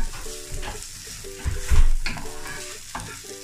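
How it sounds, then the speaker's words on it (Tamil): Onions sautéing in a pan, a loud close sizzle with repeated spatula stirring and scraping, a few heavier knocks midway, no speech. "வெங்காயம் கொஞ்சம் லேசாக வதக்கிட்டு"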